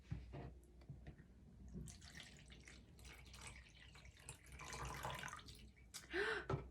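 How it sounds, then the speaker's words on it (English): Water pours from a 350 ml container into a cup in a quiet room, a faint, close trickle and splash with gurgling that rises and falls and gets louder near the end. "I wonder if I'll get 1 more full cup for a container that can hold 350 mils."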